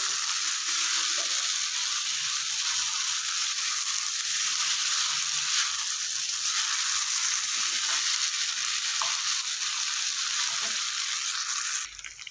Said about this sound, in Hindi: ये देखें कुछ देर फ्राई करने के बाद टमाटर जो हैं घुलना शुरू हो गए हैं।